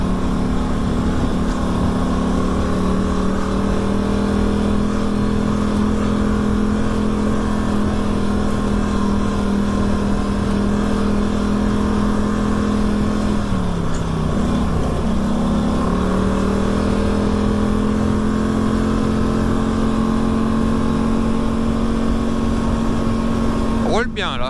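A quad bike (ATV) engine hums steadily while riding to work, a loud continuous drone that dips briefly in pitch midway as it slows, then climbs back; a voice speaks over it at times.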